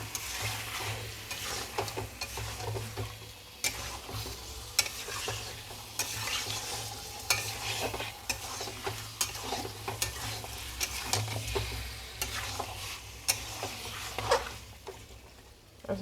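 Chicken pieces coated in spices stir-fried in a pan for a coriander chicken curry, with a continuous sizzle and repeated scraping, clattering strokes of a spatula, close and steady for the whole stretch.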